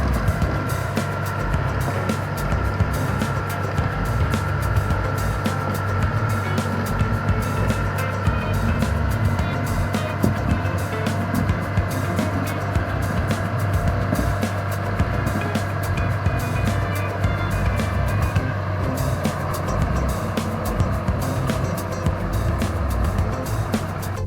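A bulldozer works in a forestry logging operation, its diesel engine a continuous heavy rumble with clanking and track rattle, steady and fairly close throughout.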